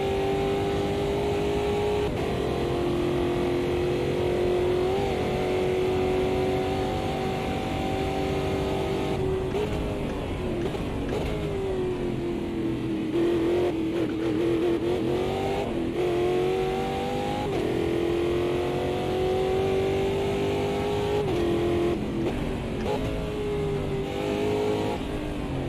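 Race car engine in a racing video game, revving steadily for the whole stretch, the pitch climbing and dropping with gear changes and throttle, loud and close with no talk over it.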